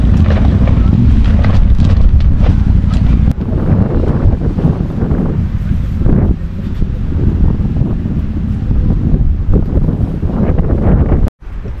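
Strong wind at a farm campsite buffets the microphone in a loud continuous roar with gusting surges, while voices talk faintly underneath.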